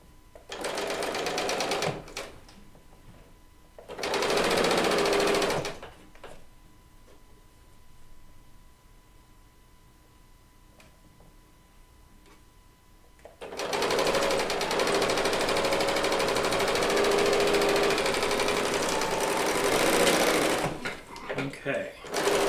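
A serger runs in three bursts while stitching quilt blocks for a quilt top: a short loud run, a second run, a long quiet pause with faint room noise, then one long sustained run near the end.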